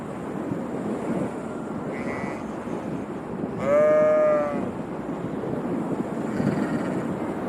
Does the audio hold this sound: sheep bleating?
yes